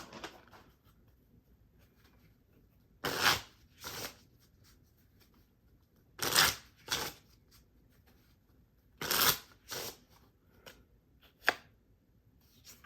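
A deck of playing cards being shuffled in a card-drawing game, heard as four separate riffle bursts spaced a few seconds apart, each a quick crisp flutter of cards with quiet pauses between.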